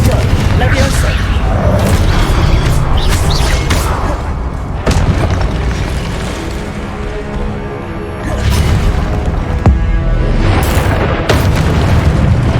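Spell blasts in the Hogwarts Legacy video game, fire and explosive curses cast against statues, with deep booming bursts and pops repeating over a constant loud mix of game music and effects, while a voice calls out spells.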